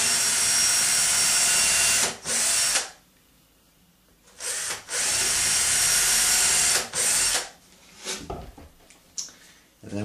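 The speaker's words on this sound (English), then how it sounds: "I drill two little pinholes" A power drill whines loudly in several long bursts separated by pauses, drilling small pinholes in wood, close up, with shorter spins and stops toward the end.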